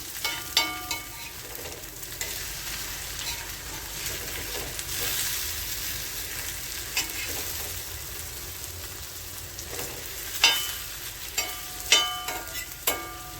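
Potatoes being stirred and fried in a pan for a tandoori cheese fry, with a steady low sizzle throughout and a few sharper clinks of the spoon against the pan near the end, with no voices.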